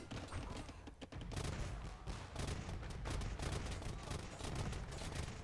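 Machine gun fire in an Age of Empires battle, rapid crackling volleys packed densely and continuously, fairly faint and steady throughout with a layered, distant battlefield texture.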